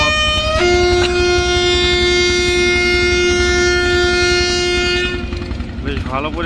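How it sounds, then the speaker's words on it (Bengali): A passenger launch on a Bangladeshi river, the high-speed vessel MB Rahmat bound for Char Bhairabi, sounds a loud sustained horn for about five seconds, a steady harmonic blast over engine rumble before it cuts off. "কারে দেখে হরেন মারে"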